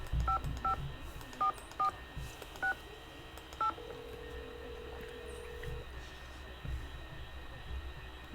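An old telephone in the Nancy Drew game Ghost Dogs of Moon Lake dials a quick series of sharp tone beeps, then a single longer steady ring tone sounds, faint against a low background rumble.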